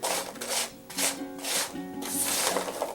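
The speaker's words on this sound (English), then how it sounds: "They're a little bit more on the crisper side from the sound of them." Crisp butter-roasted spiced pecans are stirred in a pan, giving repeated dry rubbing and rattling scrapes in uneven bursts, close and moderately quiet, with no talking.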